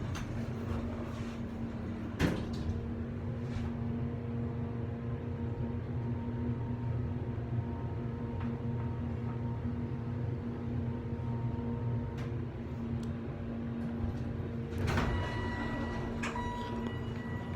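A 1991 Montgomery Vector hydraulic elevator in a Lord & Taylor store at a shopping mall, with a steady low machine hum through the ride and a couple of sharp door or chime clunks, no talking.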